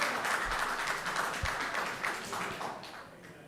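Scattered clapping from the audience at a school board meeting, uneven and thinning out over a few seconds, with a few sharper claps standing out.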